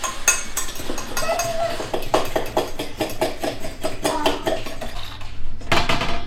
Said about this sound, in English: Then I'm just going to mix all of that together